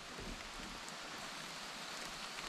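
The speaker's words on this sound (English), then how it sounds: "There's the waterfall there." A steady, broad hiss of rushing water from a waterfall at Petit Jean State Park, Arkansas, heard from an overlook a short distance away, constant throughout with no voices.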